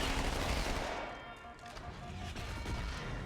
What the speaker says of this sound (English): when I'm using dual SMGs here, I usually just fire one gun at a time, reload that gun, and then use the other one to shoot